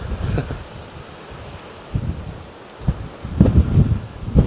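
Wind buffets the microphone in rumbling gusts at a scenic viewpoint, building stronger toward the end, with no voices.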